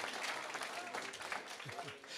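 Sustained congregational applause fills a church hall during a praise service, a broad, even patter of many hands, with a few brief voices surfacing in the crowd noise near the end.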